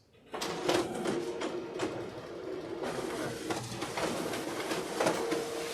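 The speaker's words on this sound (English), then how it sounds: "Oh, that's the printer in Holbrook?" A printer in Holbrook runs continuously, a steady mechanical whir broken by rhythmic pulses that repeat throughout, fairly close and loud, with faint voices in the room.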